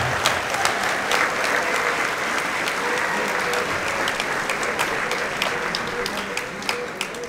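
A crowd at a football banquet applauds continuously, a dense, even wash of many hands clapping that holds steady throughout.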